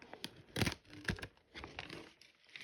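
A sticker being peeled off its backing sheet, giving a few quick, close, crackling rips with soft rustling and crinkling of the paper in between.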